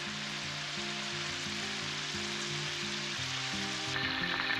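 Kingfish steaks and chicken wings fry in a pan with a steady, loud, close sizzle that holds throughout, while a low tonal hum runs underneath.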